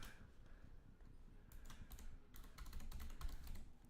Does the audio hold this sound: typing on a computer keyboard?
yes